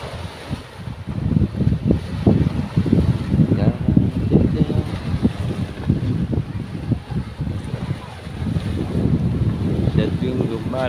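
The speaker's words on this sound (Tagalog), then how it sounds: "Lumalakas ang alon" Strong sea waves churn and slosh while gusty wind buffets the microphone out on open water near a fishing boat, a loud, rough, continuous roar with surging swells.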